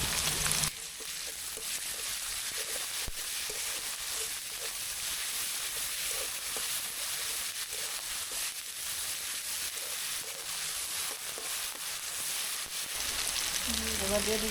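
Garlic paste sizzling in hot oil in a pan for a fish curry, a steady soft hiss of frying that runs unbroken throughout, fairly quiet and close.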